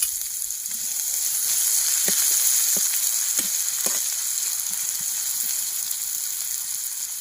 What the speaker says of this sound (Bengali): কুচিয়ে রাখা পেঁয়াজ দিয়ে দিচ্ছি